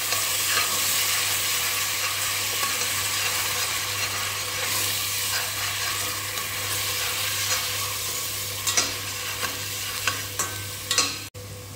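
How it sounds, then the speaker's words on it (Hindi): A coconut, green chili and coriander paste sautés over medium heat for a prawn pulao, a continuous close sizzle with stirring scrapes and a few sharp clinks near the end, with no talking. "ये मैंने पूरा का पूरा डालना है और इसको भी मैंने अच्छे से भूनना है मीडियम आंच पर।"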